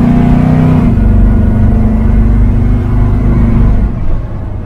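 A car engine fitted with an Edelbrock 650cfm AVS2 carburetor revs hard at full throttle up a slight incline in a steady loud drone, pitch shifting as it strains, then easing off near the end.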